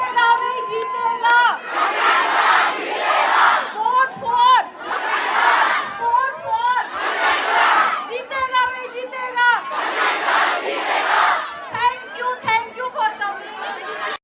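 A huge crowd of more than 20,000 fans at a Delhi meetup for Fukra Insaan, loud and close, roaring and chanting in surging waves with shrill shouts rising above a constant babble.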